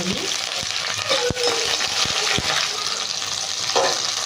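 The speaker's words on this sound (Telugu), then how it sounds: "అలాగే కొంచెం కరేపాకు కూడా వేస్తున్నాము ఇందులో" Curry leaves hit hot oil in a pan with a loud, steady crackling sizzle throughout, with a few sharper pops and spits along the way.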